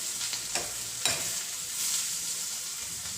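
Food fries in a pan with a steady, close, bright sizzling hiss. A couple of brief stirring scrapes come near the start, and no voices are heard.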